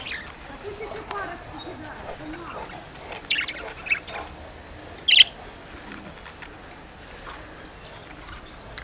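Pet budgerigars chirp in short bursts indoors, near a Dogue de Bordeaux, with one sharper, louder chirp standing out amid quieter twittering and faint room noise.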